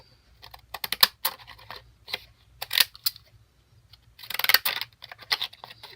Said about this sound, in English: They're not my real pinking scissors, but they'll work.